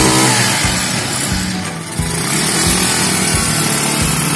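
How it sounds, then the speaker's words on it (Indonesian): A used three-wheeled motorcycle engine idles while warming up, a loud, close, steady putter with a regular pulsing rhythm that dips briefly before settling back to a constant run. "Ini dipanasi dulu agar nanti tidak terjadi mogok saat digunakan untuk mengantar air galon"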